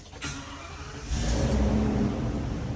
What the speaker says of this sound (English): Okay, so I'm going to turn on the key on the engine.